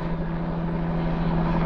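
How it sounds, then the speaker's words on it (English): A helicopter circling overhead gives a steady, droning rotor hum with a strong low tone, continuous and moderately loud throughout the short stretch. "There was a helicopter circling for some reason."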